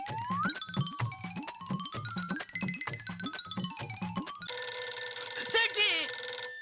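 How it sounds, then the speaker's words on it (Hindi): A landline telephone rings in a regular repeating electronic pattern, loud and close, then gives way to a sustained musical tone, with no talk over it. "फोन मत उठाइए।"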